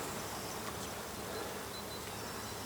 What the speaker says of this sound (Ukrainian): бджола працює тож теж